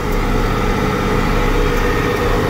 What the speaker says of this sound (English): I'm gonna run my tractor at a high RPM.